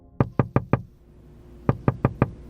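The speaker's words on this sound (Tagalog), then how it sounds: "nang marinig ko ang pagkatok ni nanay sa pinto ng kwarto ko" Knocking on a bedroom door: two close sets of four sharp, evenly spaced raps, loud and dry, separated by a short pause, with no voices.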